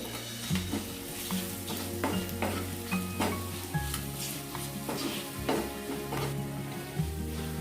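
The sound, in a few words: frying and stirring spices with garam masala and coriander powder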